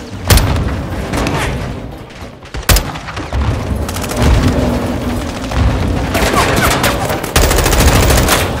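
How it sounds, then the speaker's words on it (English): Grenade launches and gunfire in the video game Modern Warfare II, loud close booms and sharp shots punching through continuous rattling fire and battlefield noise, fairly dense throughout. "Incoming! Take cover! They're launching grenades!"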